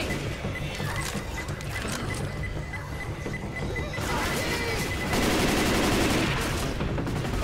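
Grenade blasts and gunfire from a zombie shooter video game, heard as a dense, continuous stretch of crackling shots and explosions that grows louder near the end.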